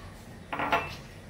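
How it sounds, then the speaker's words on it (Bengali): A knife cuts onion and green chilies in a home kitchen, giving a few quick, close taps and scrapes against the board, followed by a sharper click. "আমি পেঁয়াজ আর কাঁচামরিচ কেটে নিই"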